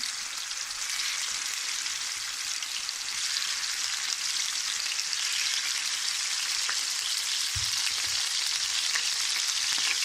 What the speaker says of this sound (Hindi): लो आंच पर आपने करने हैं फ्राई। ज्यादा ऑयल नहीं डालना आपने।